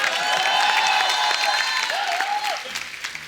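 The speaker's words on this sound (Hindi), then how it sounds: "कृष्णा के लिए जोरदार ताली हो जाए।" Studio audience applauding loudly on a Hindi comedy talk show, a dense steady burst of clapping with some cheering and whistles, close and continuous for a few seconds.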